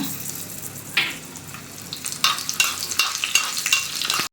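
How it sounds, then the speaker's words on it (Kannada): Cashews sizzle in a hot pan while a spoon scrapes and stirs, with several sharp, rhythmic scraping strokes over the frying. "ಲೈಟ್ ರೆಡ್ ಆಗೋವರೆಗೂ ಫ್ರೈ ಮಾಡ್ಕೊಳ್ಳೋಣ"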